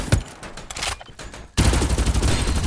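Rapid bursts of automatic gunfire in the Farlight 84 game, loud and dense, with a brief lull before a heavier sustained volley erupts and keeps going.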